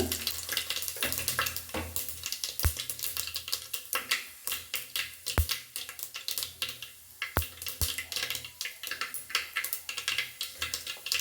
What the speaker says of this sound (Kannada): ನೋಡಿ ಎಣ್ಣೆ ಕಾದಿದೆ ಸ್ವಲ್ಪ ಸಾಸಿವೆ ಹಾಕೊಳ್ತೀನಿ ಇವಾಗ ಸ್ವಲ್ಪ ಜೀರಿಗೆ ಹಾಕೋಣ